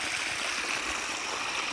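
Steady rushing water pours continuously out of a pipe after rain, a broadband hiss with a low gurgle underneath, close and fairly constant for the whole stretch.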